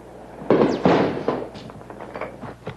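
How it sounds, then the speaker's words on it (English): Militia fighting at night with artillery, heavy machine guns and rocket-propelled grenades: sharp, loud blasts and cracks, two big ones close together followed by scattered smaller pops and thuds. "As the night wears on, the fighting intensifies. Artillery, heavy machine guns, and rocket-propelled grenades put everyone in the area at risk."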